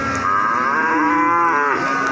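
A cow at a rain-soaked cattle market in Pati lets out one long, loud, close moo that bends in pitch, with no other voices over it.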